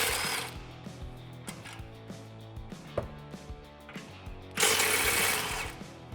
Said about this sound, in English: grab an extension and a 13 millimeter deep socket, and what I like to do is go straight over the sway bar and remove those 2 bolts